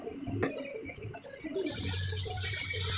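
Water begins running steadily from a tap partway through, a constant rushing stream following some brief clatter and faint background sounds.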